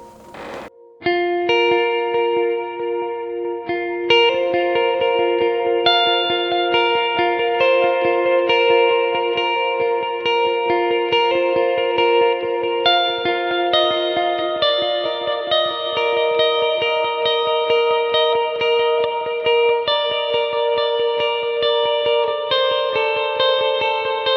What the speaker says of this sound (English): A lot of the times I would just pair that with this room delay.